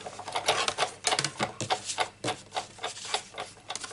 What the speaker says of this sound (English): Now I'm going to bring up the big shot and cut out these butterflies.